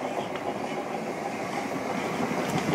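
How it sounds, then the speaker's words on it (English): A British Rail class 455 electric multiple unit at Battersea Park station in London, a steady rumbling roll with faint wheel clatter running throughout, moderately close and fairly loud. "My train to Clapham Junction."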